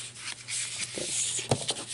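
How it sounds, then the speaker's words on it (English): A bone folder rubs along a creased paper fold for an easel calendar, giving soft, close scraping strokes with a brief firmer swipe near the end; the sound is quiet and there is no talking. "And we'll burnish that with our bone folder."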